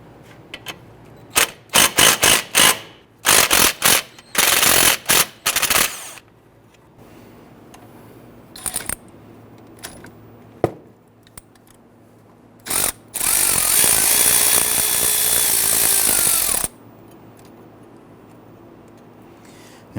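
Tools working loose the brake hose fitting from the block on a 2008-2013 Infiniti G37, close and loud: bursts of sharp clicks and ratcheting, scattered taps, then a sustained whirring power-tool run near the end.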